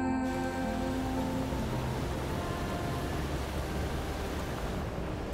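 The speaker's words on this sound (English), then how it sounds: "Rain won't quit, will it, young blood?" Steady rain in the video game Road 96, a constant even wash of falling water that fills the whole stretch at moderate level, with a low tonal game soundtrack fading beneath it early on.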